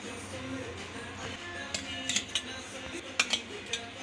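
Lentil and dried red chilli dumplings lifted with a utensil into a metal cooking vessel, giving a few light metallic clinks and taps in the second half over soft kitchen background noise.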